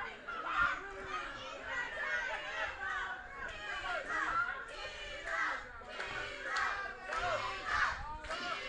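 A wrestling crowd cheers and shouts at a live match, a busy chorus of excited, high-pitched voices rising and falling in bursts, close and loud throughout.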